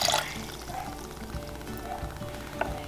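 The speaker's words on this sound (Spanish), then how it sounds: "aquí le voy a agregar una taza de agua" Water is poured from a cup into a blender jar holding roasted tomatoes, a short, close, gurgling pour with light splashing, quiet and unaccompanied by speech.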